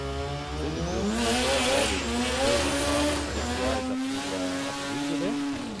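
A rotary-engined drag racing car launches at Sydney Dragway, its loud buzzing exhaust climbing in pitch through several rapid gear changes, close and dominant with no talk.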